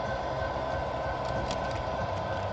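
A Kato model train runs on a small loft layout, making a constant close whirring rumble with a faint mechanical hum and no distinct clicks.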